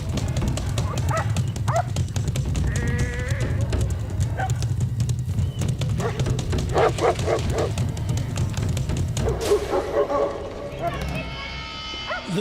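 Guardian dogs bark in repeated bursts at a bear hidden in dense bush near a flock of sheep, sharp yaps rising over a steady low rumble, with a voice speaking over parts of it.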